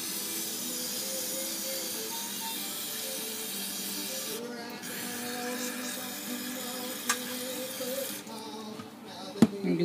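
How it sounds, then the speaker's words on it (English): Compressed air sprays in hissing bursts across a Briggs & Stratton carburetor during cleaning, fairly faint, breaking off twice for short pauses, with a low mechanical hum in the background. "You can take a little compressed air too."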